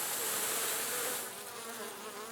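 Honeybees buzzing thickly over a hive frame during an inspection, a steady close drone that softens slightly partway through.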